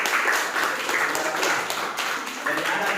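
A classroom of students claps their hands together in a steady, dense patter that runs the whole time, with voices mixed in.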